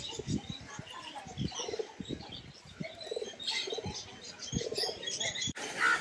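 Pigeons in a garden pigeon cage set among plants coo and flutter their wings, with soft repeated coos and bursts of flapping close by alongside light chirps.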